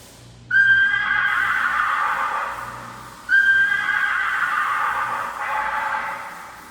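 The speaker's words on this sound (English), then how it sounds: "I mentioned have a little fun with the musical horn" A musical car horn on a 1940 Ford rat rod pickup plays a horse neigh, sounding twice in a row as loud, close whinnies with no talk.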